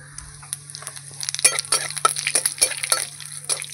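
Dried red chilli and cumin tempering in hot oil for a fish-head and potato dish, crackling and sizzling close by with scattered sharp pops and stirring scrapes, steady hiss throughout and no voices.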